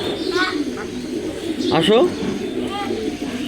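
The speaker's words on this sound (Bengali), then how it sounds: "এই যে কানছে কবুতর।" Pigeons cooing close by in repeated soft throaty bursts, with a person speaking over and between the calls.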